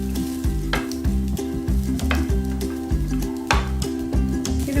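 Loud, close sizzling and frying in a pan while banana stem chutney ingredients are sautéed, with repeated stirring scrapes breaking the steady hiss in an uneven rhythm.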